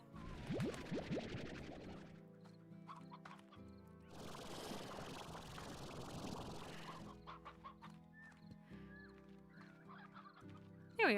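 Chickens in the video game Slime Rancher cluck and squawk in repeated short bursts, with a denser stretch of flapping, scratchy fowl noise in the middle and a sharp squawk at the very end.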